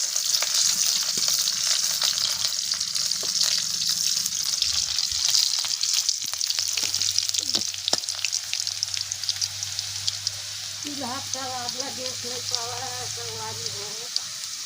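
Chopped onion sizzles and fries in hot oil as a tempering for a potato and long bean curry cooked over a wood-fired clay stove, a steady close crackle throughout with a voice speaking over it near the end.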